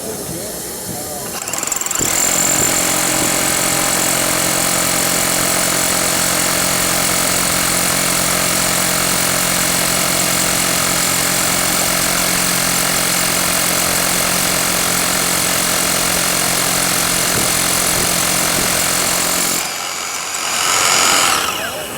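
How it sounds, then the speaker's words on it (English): A heavy Bosch cordless SDS Max rotary hammer drills continuously for about seventeen seconds, a loud steady pounding roar that stops abruptly, followed by a brief faint sound. "And this is our cordless SDS Max rotary hammer."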